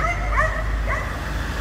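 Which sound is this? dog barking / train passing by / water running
dog barking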